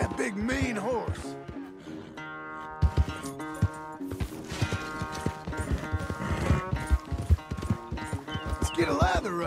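Horse hooves clip-clop in the Red Dead Redemption 2 video game, irregular close hoofbeats mixed with music, a whinny and a voice speaking over them.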